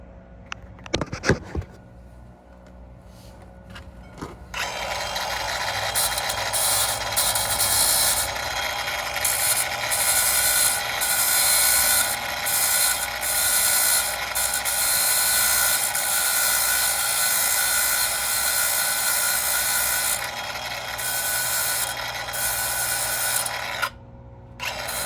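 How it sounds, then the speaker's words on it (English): An angle grinder grinds down a small metal nub on a Knott brand trailer brake caliper pad from a Load Rite trailer, a loud, steady, high-pitched abrasive whine that runs for about twenty seconds after a few clanks. It cuts off briefly near the end. "So I'm going to grind that off and we'll put this all back together."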